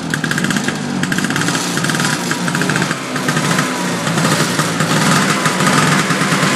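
An old Vespa Kodok scooter engine, started after sitting unused for a long time, runs loud and close with a rough, rapid two-stroke putter that holds steady throughout.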